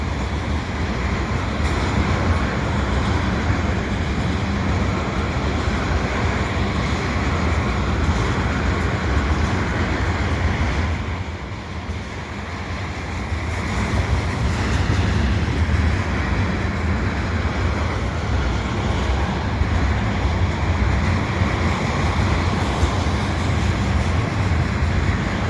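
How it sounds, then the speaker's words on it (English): A CP eastbound loaded oil train from Alberta, pulled by vintage SD40-2 diesel locomotives, rolls past the Dorval ramps in winter with a loud, continuous rumble and rattle of cars that dips briefly midway before resuming at full strength. "Probably a loaded oil train, this one. It's headed from Alberta."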